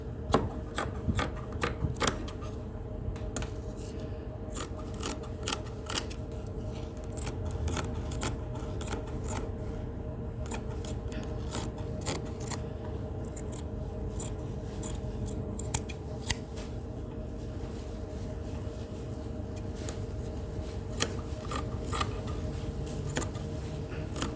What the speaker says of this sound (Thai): จากนั้นเราก็ตัดผ้า